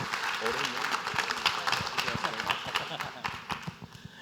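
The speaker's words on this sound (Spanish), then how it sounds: "Dale un aplauso al Señor" A church congregation claps in a dense, irregular patter that holds steady for several seconds and then eases slightly, with voices heard through it.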